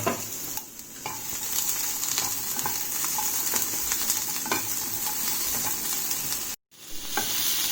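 Capsicum pieces fry with a steady hiss in a kadai of tomato gravy for kadai paneer, stirred with repeated scraping clicks. A brief dropout comes near the end.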